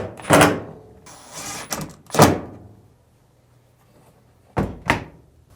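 A Samsung dryer's front door is set onto its hinge, with several sharp metallic clunks and knocks in uneven bursts, a quiet gap, then two more thumps close by.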